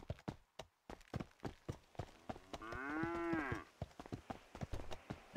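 A cow moos once in a video game, a long drawn-out low call rising and falling, heard alone between clicky game sounds and footsteps.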